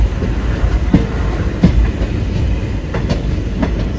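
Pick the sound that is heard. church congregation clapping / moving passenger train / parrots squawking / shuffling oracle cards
moving passenger train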